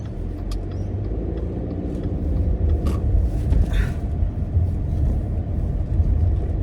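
A car driving along a road, heard from inside as a steady low engine and road rumble that builds slightly, with a few faint clicks and rattles in the cabin.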